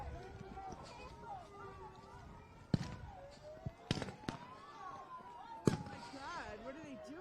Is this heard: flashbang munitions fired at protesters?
yes